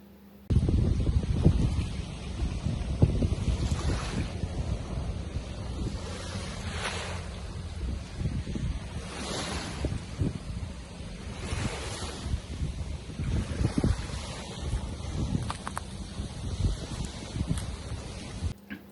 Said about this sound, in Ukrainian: Дійсно, дуже сильний вітер був